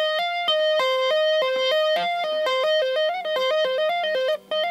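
A fast electric guitar lick with a distorted, effects-heavy tone, rapid legato notes cycling through a repeating sequence, played alone without pauses.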